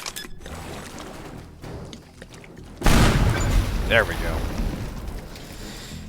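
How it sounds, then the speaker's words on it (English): A C4 charge detonates in the physics demolition game Teardown, one sudden loud boom with a rumbling, crackling tail of debris, after quieter ambience and under a man's speech. "Time for the C4!"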